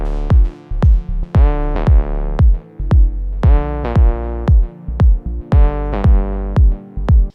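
A looping electronic pattern of plucked, decaying synth notes in a steady repeating rhythm, loud and close, with no talking.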